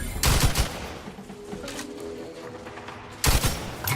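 Squad gunfire in The Outer Worlds 2, with two loud, dense bursts of rapid shots at the start and end and a quieter stretch of lingering combat noise between them.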